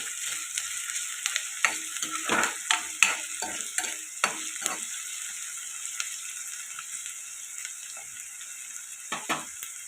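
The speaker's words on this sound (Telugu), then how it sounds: "అలాగే కరివేపాకు, ఇవి ఫ్రై చేసుకోవాలి." Curry leaves and chopped onions fry in a hot pan, a steady bright sizzle broken by repeated stirring scrapes and clatters, close and fairly loud, with no talking.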